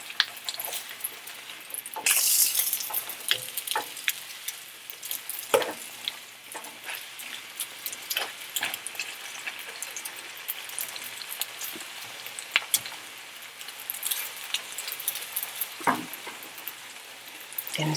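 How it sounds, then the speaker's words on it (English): Pita bread fries in a pan of garlic-infused oil, a soft close crackle and light sizzle with occasional pops and handling clicks, quiet and steady, with no talking. "I like putting my pita bread in a pan like this because the garlic that cooked in the oil gives the pita bread a really,"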